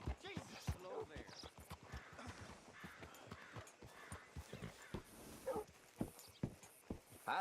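Horse hooves clip-clop on the ground in the Western video game Red Dead Redemption 2, a quick uneven run of distinct, fairly close steps with crows cawing in the background and occasional voices.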